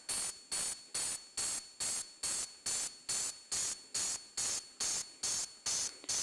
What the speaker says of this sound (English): the damn wall socket sound, there it is.